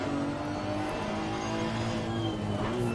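Porsche race car in Assetto Corsa Competizione at Laguna Seca, a dense, loud, continuous engine roar with slight pitch shifts from nearby cars, with no talk.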